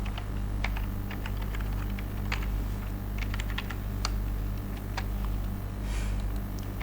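Someone types a captcha code on a computer keyboard to log in, producing quick, irregular clusters of close, crisp key clicks over a steady low electrical hum.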